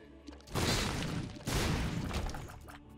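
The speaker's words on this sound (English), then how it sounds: "So many explosions." Explosions from The Binding of Isaac Repentance erupt in two loud, dense blasts, each followed by a lingering crackling roar, back to back without talk.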